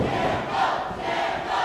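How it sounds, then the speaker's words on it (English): A wrestling arena crowd cheers and roars for Terrell Tempo in a steady, dense wall of voices with swelling shouts, sustained throughout without a break. "And this crowd is solid behind Terrell Tempo tonight."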